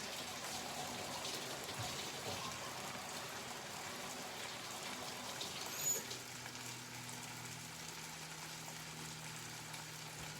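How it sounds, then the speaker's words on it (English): Tap water runs steadily into a kitchen sink during a hand wash while bagels toast for a sausage and egg sandwich, a soft, even hiss with a low hum joining partway through. "let me wash my hands real quick"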